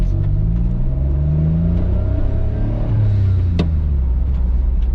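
An Autozam AZ-1 with Navic coilovers drives through city streets with a steady engine hum and low rumble, rising slightly as it accelerates, with no voices.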